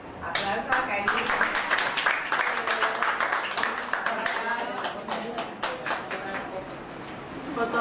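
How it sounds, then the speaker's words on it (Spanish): Applause breaks out for a graduate at a diploma ceremony in Paraguay, many hands clapping quickly and densely for several seconds, slowly thinning out, with voices mixed in underneath. "Aplausos a Karina."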